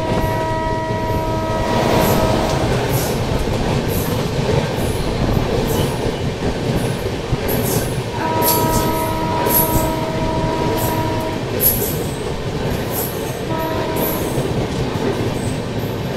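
Golden Temple Mail train rolls along the rails with a constant rumble and rattle of carriages, rhythmic wheel clicks, and recurring high squeals from the wheels, heard from onboard.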